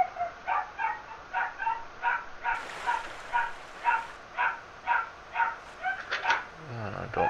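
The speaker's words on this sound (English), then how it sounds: "Don't mind the dog in the background." A dog barks steadily in the background, a dozen or so evenly spaced woofs at moderate volume, continuing in a regular rhythm with a few quicker yips near the end.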